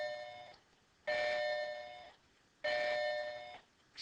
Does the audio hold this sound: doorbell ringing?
yes